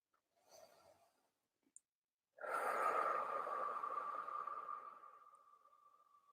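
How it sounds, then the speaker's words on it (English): A single slow, long exhale runs for about four seconds, breathy and close to the microphone, and fades gradually in a quiet room after a few faint earlier breaths. "I'm exhaling slowly here to maybe invite your nervous system, your body to start to copy what I'm doing."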